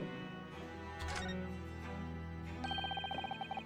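An old-fashioned telephone rings in The Great Ace Attorney 2 video game, with rapid trilling bell bursts rising over a soft game soundtrack and growing more insistent near the end.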